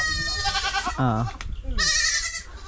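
Goats bleating loudly and close on a Philippine farm, several wavering, harmonic bleats overlapping one another, with a person talking briefly among them.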